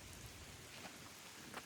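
Heavy rain pours down steadily outdoors under a tree near a gym in Australia, a dense, even hiss of falling drops with no voices.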